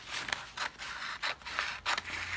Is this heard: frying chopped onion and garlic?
no